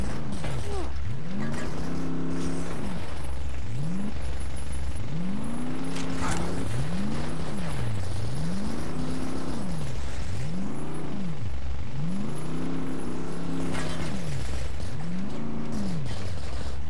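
A vehicle driven in the shooter game Blitz Brigade, its engine rising and falling in repeated revving sweeps as it accelerates and eases off, steady and close, with game effects layered over it.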